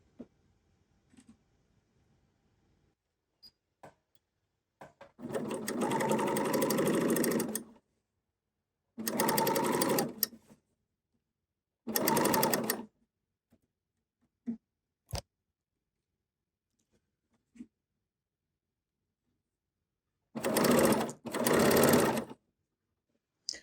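A serger sewing machine stitches ribbing onto a T-shirt neckline in several short whirring runs, each a few seconds long and separated by quiet pauses with faint handling clicks, close and clear, with no talking.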